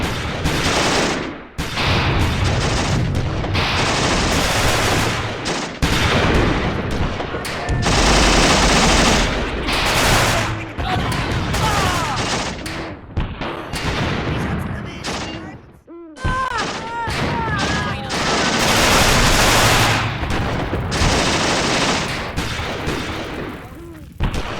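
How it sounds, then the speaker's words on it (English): Dense, sustained machine gun fire and artillery bursts in the WWII tank strategy game Achtung Panzer, loud and nearly continuous with brief gaps and scattered booms, a voice talking over parts of the battle. "This guy's really firing off the bullets."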